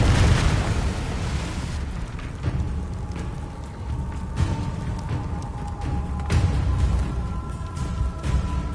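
A Confringo fire spell detonates in a video game, a sudden loud blast at the start that settles into a long, rumbling, crackling roar with scattered smaller pops.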